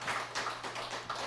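An audience at a health talk claps to welcome a newcomer. The applause is a dense, steady patter of many hands, moderately close, with no talk over it.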